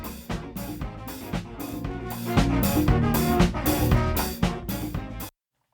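A full drum kit captured through a room microphone in a home studio session: rhythmic kick and snare hits with washing cymbals, roomy and dense, playing for about five seconds before cutting off abruptly to silence.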